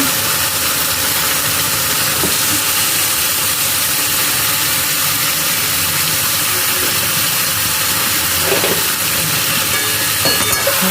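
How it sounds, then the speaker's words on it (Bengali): About 500 grams of chicken leg pieces fry in hot oil and spice masala for a red chicken curry, giving a loud, steady hiss and sizzle that runs unbroken throughout with no talking. "এরপর আমি চিকেনগুলো এক এক করে দিয়ে দেবো।"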